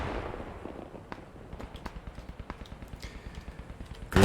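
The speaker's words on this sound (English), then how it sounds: "Grenades are thrown here in the south." Grenades and small-arms fire in the Post Scriptum battle game: a dense run of soft, regular pops and distant thuds, then a sudden loud blast right at the end, no talk.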